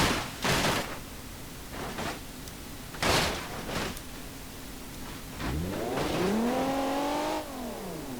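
A badly damaged Roth Alpha car in BeamNG.drive lurches with a few sharp clunks and thuds, then its engine revs up in a rising, wavering whine for a couple of seconds before easing off.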